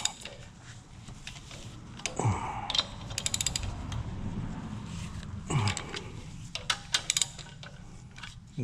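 Bolts being loosened on a 1964 VW single cab engine during a camshaft job, with close, quick ratchet clicking in short runs, a few metallic clinks and clunks, and quiet scraping between them.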